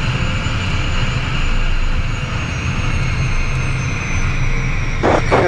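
A steady, loud roar of an aircraft's engines on a gusty flight from Nashville to Naples, droning evenly throughout with no voices.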